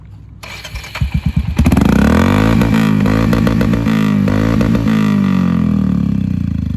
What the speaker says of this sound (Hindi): मेरे गाड़ी में लगा हुआ है SC प्रोजेक्टर, तो इसका आवाज़ भी आप लोग को सुना देता हूँ एक बार।